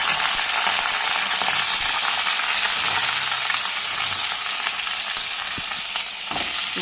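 Raw plantain pieces fry in a pan while being stirred, a loud, continuous sizzling crackle with occasional scraping clatters of the spoon and no voices.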